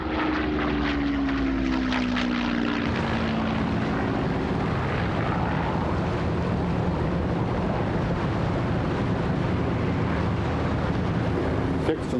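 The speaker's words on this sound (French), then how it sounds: "Sous une pluie violente, les Swordfish décollèrent pour une deuxième attaque." Swordfish torpedo biplanes taking off in violent rain for a second attack, a loud continuous propeller-engine roar with a falling drone early on, filling the whole stretch without pause.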